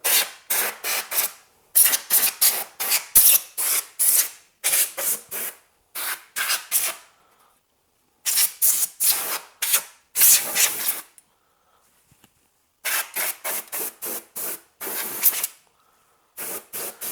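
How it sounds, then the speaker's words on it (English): Canned compressed air blasts dust out of a computer case in quick, short hissing bursts, clustered in rapid groups with brief pauses between, loud and close with no talking. "You want to use quick, short bursts, just like a spray painter does when they're doing a small area of cleaning."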